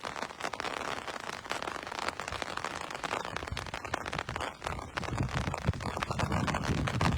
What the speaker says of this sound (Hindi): अब ये दिन आ गए हैं और बारिश हो भी रही है।